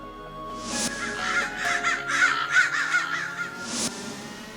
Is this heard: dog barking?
no